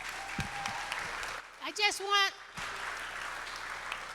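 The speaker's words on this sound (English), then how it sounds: "give him a clap" Audience applause at a Black History conversation and celebration event, a steady wash of clapping that breaks off briefly for a few tonal voice-like sounds before resuming at a similar level.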